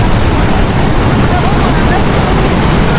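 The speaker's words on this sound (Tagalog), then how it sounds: "Ah, malakas yung tubig, guys." Strong rushing stream water flows past a bridge damaged by flooding, a dense, steady roar that fills the whole clip without a break, close and loud, with wind buffeting the microphone.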